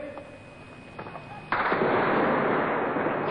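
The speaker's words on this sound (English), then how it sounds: "their attackers were Phalangist militiamen who seemed to be shooting to kill" Gunfire from Phalangist militiamen in Lebanon, 1982, captured in news footage: a quiet, murmuring stretch breaks into a loud, dense burst of shots that continues without letup to the end.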